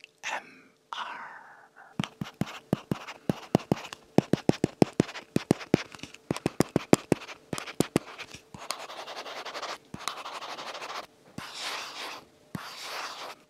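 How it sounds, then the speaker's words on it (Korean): A Galaxy S Pen writes on a matte, paper-texture, anti-glare, anti-fingerprint screen protector on a Galaxy Tab S7+. Close, crisp scratchy strokes and quick taps come in clusters, with softer longer scribbles near the end and no talking. "마지막으로 S펜의 필기감을 ASMR로 들어보겠습니다."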